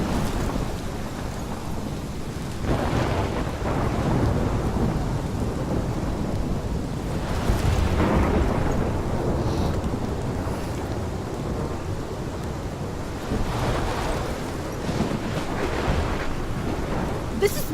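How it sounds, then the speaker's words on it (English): A steady thunderstorm with heavy rain fills the scene in the video game Life is Strange: a continuous broad hiss of downpour, with rolling thunder swelling around the middle and again near the end. "This is my storm."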